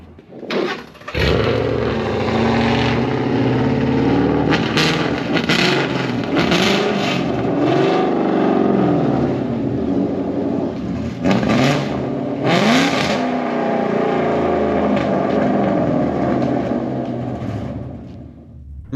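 A car engine cranks and catches near the rear of the car, then revs loudly in repeated surges for most of the clip, settling back between bursts with some rattling.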